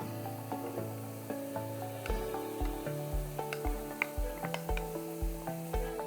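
Chopped onions sizzling in a hot frying pan for eggplant in garlic sauce, a steady close crackle with a regular scraping rhythm as they are stirred, alongside a sustained tonal hum, with no voices.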